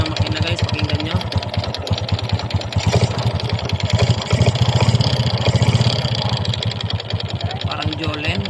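Honda XRM 125 motorcycle engine with piston slap, before overhaul, idling steadily up close with a fast rattling, knocking clatter running through the whole stretch of sound.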